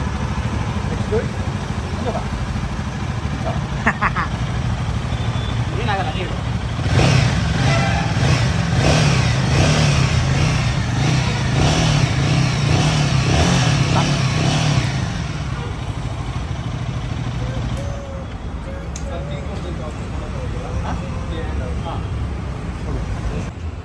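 A new Royal Enfield Himalayan 450 motorcycle engine idles and then revs hard for several seconds before settling back, loud and close, while a group of people talk and cheer around it throughout.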